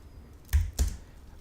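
Two quick keystrokes on a computer keyboard, crisp and close, with a short gap between them and quiet otherwise.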